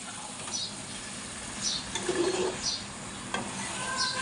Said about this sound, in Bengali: আমি কষাই নেব ভালো করে একেবারে সুন্দর তেলটা ফুইটা বেরোয়া পর্যন্ত